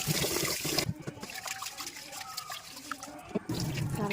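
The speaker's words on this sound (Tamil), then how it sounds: "அந்த அரிசியை கொஞ்சம் வாஷ் பண்ணேன்." Rice is washed by hand in water in a home kitchen, with close sloshing, trickling and splashing as the grains are swirled, rubbed and drained, continuous and clear with brief louder splashes.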